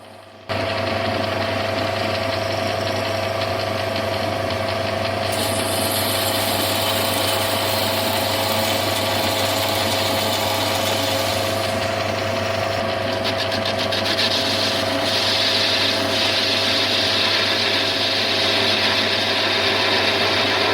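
A lathe turns a cast iron gear blank cut from a clutch centre plate, bringing the outer diameter down to 26 mm. A loud, steady motor drone and cutting noise run without a break, with slight shifts in the upper hiss.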